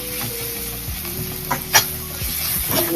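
Cabbage stir-frying for noodles in a hot pan, with a steady sizzle broken by a few scraping stirs of the spatula, close and alone with no talk.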